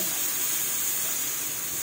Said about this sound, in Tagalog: Mag-a-add na ako ng water.